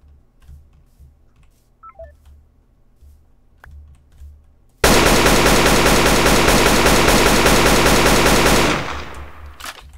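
Quiet game ambience with scattered small clicks breaks into a loud, sustained burst of rapid automatic AK rifle fire in the survival game Rust, lasting about four seconds before cutting off and fading.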